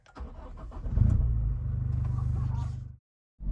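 The 2GD diesel engine of a 2018 Toyota Innova Venturer cranks briefly, then catches and settles into a steady, close idle rumble before the sound cuts off and comes back.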